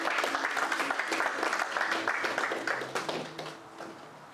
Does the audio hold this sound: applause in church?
yes